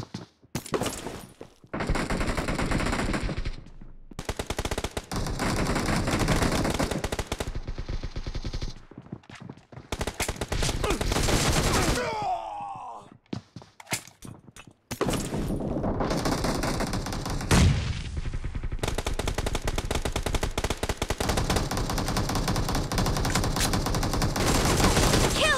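Rapid bursts of automatic gunfire from the battle royale video game BGMI, loud and dense, with repeated volleys, brief gaps and a short quiet stretch midway before the shooting resumes.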